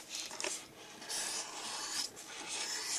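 Pencil or marker drawing a quick cartoon of a cactus on paper, heard as close, continuous scratchy rubbing strokes with brief pauses between bursts over three seconds.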